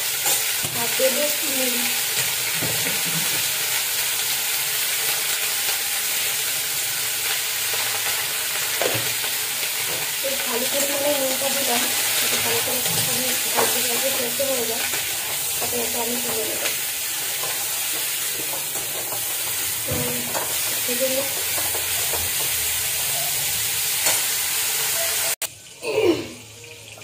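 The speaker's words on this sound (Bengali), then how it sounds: "এটাকে আমি লাল লাল করে ভেজে নেবো" Potato and cauliflower pieces fry in oil in a pan, a long continuous close sizzle with occasional scraping and clanking from stirring, and a brief clatter near the end.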